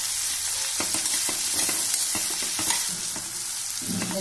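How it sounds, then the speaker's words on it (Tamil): Onions sauté in a pan for varagu rice kichadi, giving a constant close sizzle broken by repeated scraping stir strokes, with no speech. "வெங்காயம் நல்லா வதங்கிடுதுங்க."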